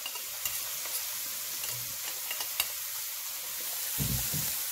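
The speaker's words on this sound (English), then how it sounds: "You hear the sizzle?" Crab curry sizzles steadily in a hot pan, a continuous close hiss with occasional light stirring knocks and a brief scrape near the end. There is no talking.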